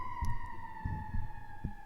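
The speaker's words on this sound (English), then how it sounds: "oh, sirens." Emergency vehicle sirens heard from indoors, a steady wailing tone held faintly in the background with a few soft knocks and clicks nearby.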